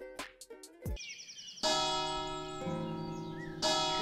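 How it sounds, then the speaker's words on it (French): Church bells ring out over Saint-Paul-de-Vence, loud resonant strikes overlapping and sustaining, preceded by a few brief bird chirps in an otherwise quiet village. "Seules les cloches semblent encore défier le silence."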